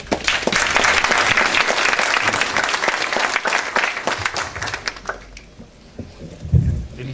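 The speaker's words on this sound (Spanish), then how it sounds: "lo recibimos al ingeniero Zenón con fuertes palmas" Dense applause from a sizable audience welcoming an engineer to a lecture on the 2016 Muisne, Ecuador earthquake, steady and loud for several seconds, then thinning out into a few scattered claps and room noise.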